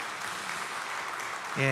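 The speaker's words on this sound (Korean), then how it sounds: "우리 큰 박수로 축복해 주시면 감사하겠습니다" A church congregation applauding during an ordination and installation thanksgiving service, a steady crowd of claps at moderate distance, with a sustained musical tone swelling in near the end.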